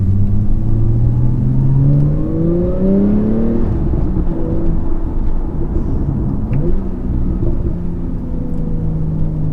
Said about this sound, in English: That was a great rev match, Neil.